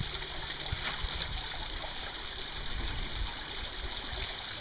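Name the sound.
water flowing over a gold prospecting sluice mat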